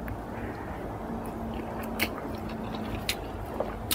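Close, faint chewing on crunchy soy-sauce pickled clams, with soft bites and a few sharper crunches over a steady low background hum, no talk.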